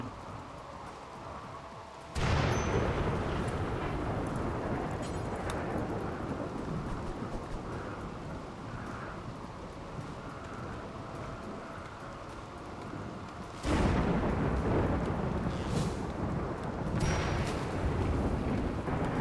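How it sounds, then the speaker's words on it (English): Steady heavy rain pours throughout in the video game RimWorld, with two loud rumbling thunderclaps breaking in, one early and one near the end. "And it's raining again."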